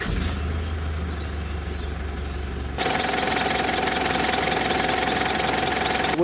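A steady, low engine idle rumbles on without pause, its tone becoming a bit louder and brighter partway through, with no talking.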